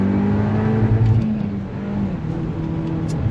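A 2024 Volkswagen Golf R MK8 with a manual transmission revs its engine up toward fuel cutoff, a loud, sustained droning engine note heard from inside the car that rises and holds.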